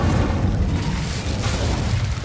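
Incendio fire spell blast from Hogwarts Legacy: a loud, steady roaring burst of broadband fiery noise that fills the whole stretch without letting up.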